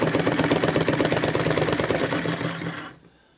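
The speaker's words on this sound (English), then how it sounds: "the little door opens and closes and sucks the air in. Hot air from the flame goes inside and keeps the engine running." A small flame-heated engine runs with a fast, steady mechanical chatter, close and loud, then cuts out abruptly into near silence shortly before the end.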